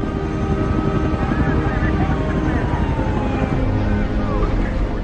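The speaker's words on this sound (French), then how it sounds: "9 hélicoptères et 34 ambulances évacuent les rescapés." A rescue helicopter drones steadily and loudly at the scene of a DC-10 crash while survivors are evacuated, a continuous rotor and engine roar with no breaks.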